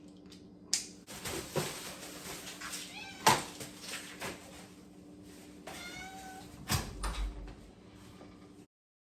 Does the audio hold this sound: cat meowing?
yes